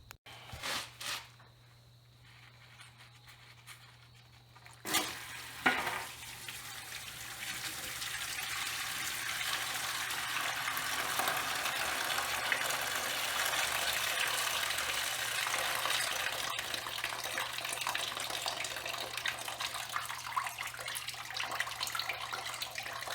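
Water from the crankcase of a 1946 John Deere B tractor pours steadily into a bucket, beginning with a few clunks and splashes before settling into a continuous rushing flow that lasts the rest of the stretch.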